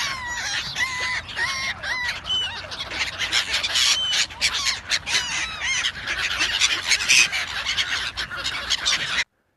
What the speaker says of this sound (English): going to feed the ducks.